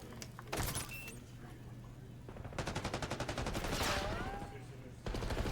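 Rapid automatic gunfire in a competitive video game shootout crackles in a fast rhythmic burst near the middle, among scattered single shots and clicks under faint background sound.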